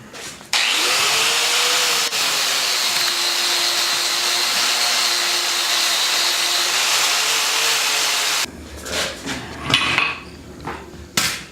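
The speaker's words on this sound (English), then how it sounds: "I'm going to try hitting that with the wire wheel real quick." A power wire wheel brushes a freshly forged steel hatchet head, a loud sustained whirring grind that runs steadily for several seconds, then cuts off into scattered metallic clanks and handling noises.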